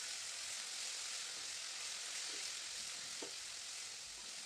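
A spice paste for a traditional Vidarbha-style dish fries in oil with a steady, soft hiss, broken by a couple of faint clicks of stirring.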